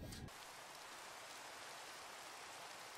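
Minecraft rain falls in a steady, even patter on surfaces, soft and continuous from start to end.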